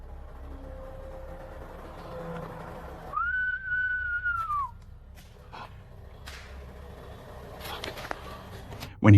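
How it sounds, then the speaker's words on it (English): A single long whistled note, slightly falling at the end, rises out of quiet background noise, followed by scattered faint knocks. "Whistle?"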